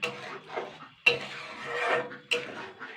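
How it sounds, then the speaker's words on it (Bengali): Fish oil curry (macher teler chorchori) being stirred in a pan with the gas turned off, giving close scraping and clinking utensil strokes in a few bursts, with no talk. "এবার একটু নাড়াচাড়া করে নেবো"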